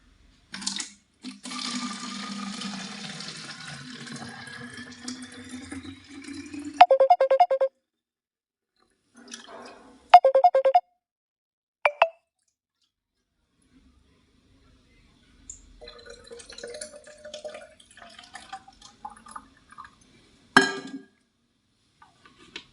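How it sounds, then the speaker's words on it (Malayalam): Cooled salt water is poured into a bottle in a home kitchen, a steady liquid stream whose pitch rises as the bottle fills over several seconds, followed by a few sharp clicks and clatters and a brief later trickle. "ഇനി ഇത് നമുക്കൊരു ബോട്ടിലേക്ക് മാറ്റി കൊടുക്കാം"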